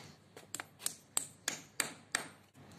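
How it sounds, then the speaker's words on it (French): A hammer taps a wall plug into a drilled hole in a wall, seven sharp, evenly spaced metallic knocks with a slight ringing ping, close and alone. "Je la fais entrer avec un marteau."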